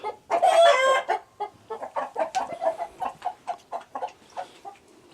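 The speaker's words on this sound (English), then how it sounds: "this rooster and this hen are warning that there's a dog in the area" A rooster and a hen give loud warning calls because a dog is nearby. A harsh squawk opens, followed by a steady run of rapid, close clucks with no talking.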